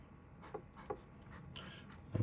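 A stubby nib on a wartime American-made Blackbird eyedropper fountain pen makes faint scratchy strokes on paper, a few soft separate scrapes heard close in a quiet room.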